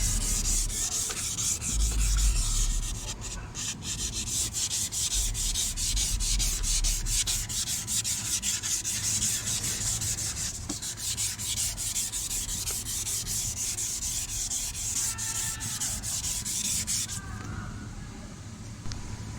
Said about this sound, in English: how do I know when to stop sanding